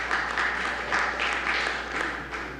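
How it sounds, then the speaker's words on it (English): Audience applause at a city council meeting, a steady moderate wash of clapping lasting a few seconds, heard from a room microphone with some faint voices mixed in. "Round of applause."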